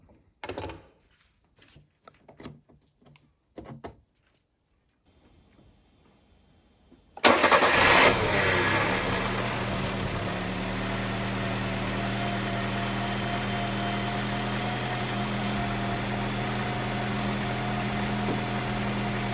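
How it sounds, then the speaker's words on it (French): Peugeot 305 Turbo cranking and firing up after ten years of sitting, then settling into a steady, close idle; faint clicks and handling noises come before the start. "Je viens de démarrer, là il n'y a pas de starter, ça tourne nickel."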